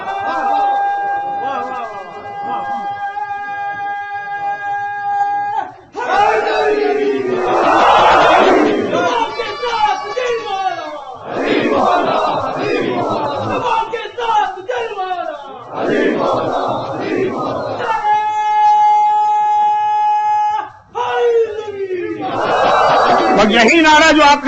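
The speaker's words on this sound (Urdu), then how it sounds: "یہی نعرہ جو آپ نے سنا" A crowd at a Shia majlis during Ramadan chants a religious slogan in loud, repeated collective shouts, several bursts separated by brief pauses, with voices and sustained tones between chants.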